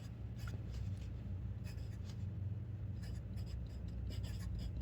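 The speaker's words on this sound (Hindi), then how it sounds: "इस साइड पे हम लिखेंगे" Marker or chalk scratching across a classroom board during a class 6 maths lesson on sets, a steady run of faint rubbing strokes over a constant low hum, with no talk in between.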